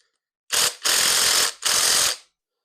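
Ratchet wrench undoing 10 mm bolts on an engine's cam cover, three bursts of rapid close clicking separated by short pauses, loud and alone with no talk.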